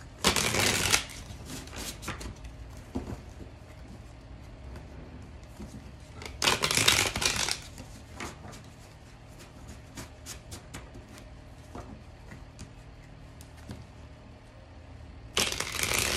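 Magic Luna oracle cards being shuffled for a two-card reading, three brisk bursts of riffling card noise separated by quieter stretches of soft handling, close up with no talk.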